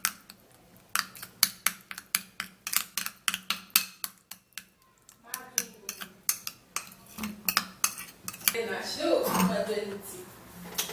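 Petroleum jelly face mask mixed in a bowl, a rapid series of light clinking taps and scrapes of a utensil against the dish, followed by a softer smeary stirring sound near the end.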